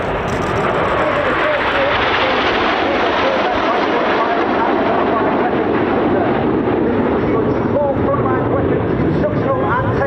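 Red Arrows jets roar continuously in formation at the RAF Cosford Air Show, a loud, sustained engine wash with a slow shift in pitch across the pass.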